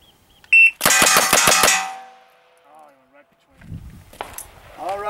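Six rapid single action revolver shots ring out in about a second at targets, loud sharp cracks in quick even succession with metallic clangs, followed by quieter sounds and a voice near the end.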